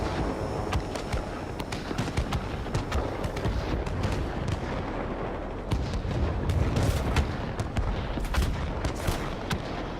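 Rapid aircraft cannon fire from a German Messerschmitt Me P.1092 fighter in the combat flight game World of Warplanes, dense overlapping bursts of shots over constant engine roar, loud and close throughout.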